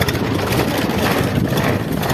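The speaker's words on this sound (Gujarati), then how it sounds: "જો ભાઈ ટ્રેક્ટર આગે છે" A tractor's heavy engine idles nearby with a steady, low chugging rumble that holds at an even level throughout.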